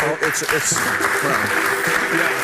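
Audience applause from a podcast crowd, dense clapping that runs throughout with a voice speaking over it.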